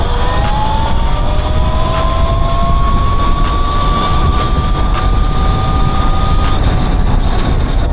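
An E-Ride Pro 3.0 electric bike accelerates to top speed in sport mode, its motor whine climbing steadily in pitch over a constant loud rush of wind and road noise, with no talking.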